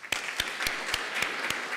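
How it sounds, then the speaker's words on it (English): Conference audience applauding a keynote speaker, a short burst of steady clapping with regular sharper claps standing out, moderately faint and with no talk over it. "a round of applause for our keynote speaker"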